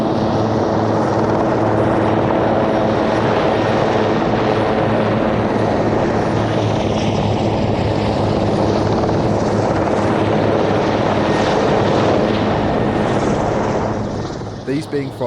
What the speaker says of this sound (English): First we see the Eurocopter Cougar helicopters, complete with underslung flags and troops